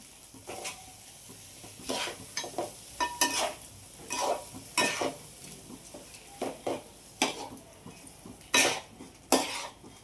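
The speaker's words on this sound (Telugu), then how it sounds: "ఇప్పుడు ఈ ఆయిల్లో కానీ వెన్నెలో కానీ ఈ పోపులో ఇది 2 మినిట్స్ ఈ విధంగా మనం ఈ విధంగా కలిగి తిప్పితే" Rice being stirred in a pan of oil or butter tempering for mint rice, with a soft sizzle under repeated scraping and clinking strokes of a spoon against the pot, close and fairly quiet.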